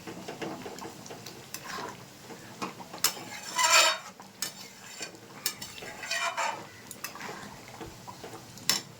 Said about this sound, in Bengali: আর একটু ঘি দেবো। ভালো করে মিশিয়ে নিচ্ছি।